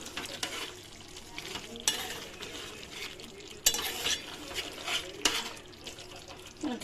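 Chili powder fries and is stirred in hot oil for a chicken curry, soft sizzling under repeated scraping strokes of a spoon against the pan, with a few sharper clatters spaced through.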